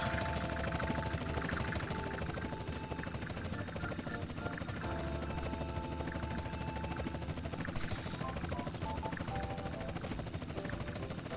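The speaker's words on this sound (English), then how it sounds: "I'm much better at flying helicopters in this game than I am airplanes" A helicopter flies in GTA San Andreas multiplayer, its steady droning rotor and engine hum continuous and fairly loud throughout, with occasional game noises mixed in.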